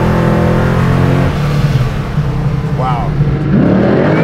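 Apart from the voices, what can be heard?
1,000HP big block V8 Jaguar drag car accelerating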